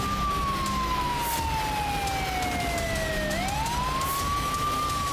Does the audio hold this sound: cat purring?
no